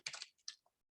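Several quick, soft keypresses on a computer keyboard arrive in a brief cluster followed by a couple of isolated clicks, close and fairly quiet with nothing else in the background.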